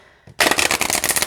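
A Nature Quest oracle card deck is riffled in a quick, close, crisp burst of rapid fluttering card snaps after a brief quiet start.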